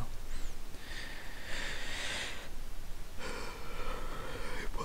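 A soft-spoken reader yawns: drawn-out breathy inhalations and exhalations in two long swells, close to the microphone, with no words spoken.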